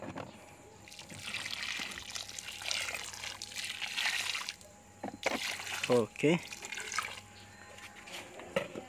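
Water poured and trickling onto soil around a newly planted grapevine seedling, splashing softly for several seconds, with a brief spoken word and some handling noise.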